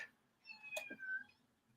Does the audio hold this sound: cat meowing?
yes